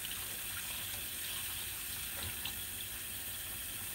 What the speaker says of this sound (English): And now I'm going to rinse my dentures